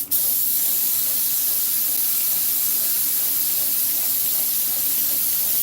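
Spray gun laying down adhesive while a 1964 Cadillac dash is recovered, a loud, steady close hiss starting abruptly and holding unbroken for several seconds, no voices.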